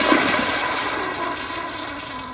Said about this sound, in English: The Sloan Flushmate had only been filling for about 10 seconds and it actually still flushed pretty well.